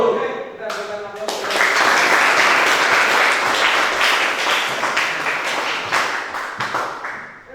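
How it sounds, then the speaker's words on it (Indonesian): A classroom audience applauds after a presentation, loud, dense clapping that swells quickly, holds steady for several seconds and then thins out, with a voice speaking briefly just before it starts. "Oke, kita berikan aplaus."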